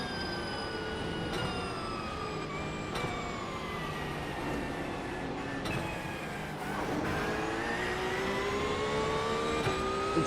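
A car engine in a racing video game revs and drones continuously, its pitch climbing and falling in long sweeps, loud and close throughout with no pauses.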